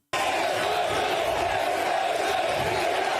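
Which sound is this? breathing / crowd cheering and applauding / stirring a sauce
crowd cheering and applauding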